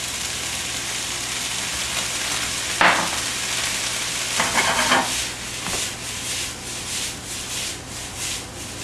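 Fresh corn kernels frying in a pan make a steady sizzle, close and moderately loud, with a few scraping stirs of a spatula partway through and no talking.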